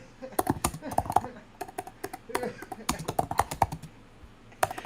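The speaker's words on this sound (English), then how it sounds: "Now, I'm typing in something" Irregular runs of close, crisp keystrokes on a computer keyboard continue steadily for about five seconds, with short pauses between clusters of clicks and a faint voice in the background.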